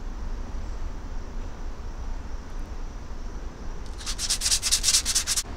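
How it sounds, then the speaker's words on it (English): A plastic hockey mask being sanded with coarse 60 grit sandpaper, starting as a steady low rub and turning into a run of loud, rhythmic rasping strokes near the end. "our next step after sanding with the 60 grit"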